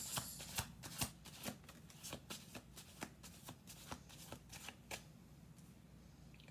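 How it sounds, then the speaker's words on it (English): Tarot cards riffle and snap in a quick series of crisp shuffles, close up and quiet, with soft handling noise between. "We'll do 2 more shuffles."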